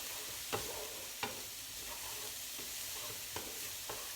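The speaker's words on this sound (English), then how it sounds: "vegetables are sweating off nicely" Chopped vegetables sweat in a pan for a bolognese sauce, a quiet steady sizzle broken by a few soft stirring scrapes, with no one speaking.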